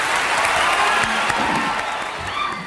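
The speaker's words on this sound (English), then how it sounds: "9 years after Muhammad Ali's last fight, he still drew thunderous applause" Thunderous applause from a large crowd for boxer Muhammad Ali at an event, dense clapping throughout with a few faint shouts mixed in, tapering slightly toward the end.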